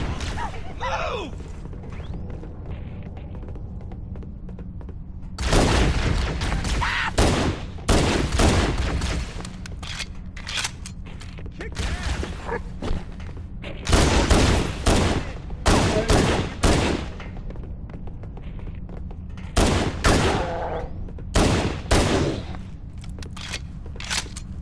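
Bursts of gunfire in Halo: Combat Evolved Anniversary, aboard the Pillar of Autumn, come in loud volleys and rapid clusters separated by short lulls, with a steady game hum beneath.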